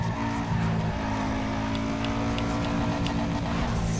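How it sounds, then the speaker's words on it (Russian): A Subaru engine in Need for Speed: Underground 2 screams at high revs and stutters against the limiter, a steady buzzing drone with rapid pulsing, loud and close. "так отсечка прикольно звучит на Субару"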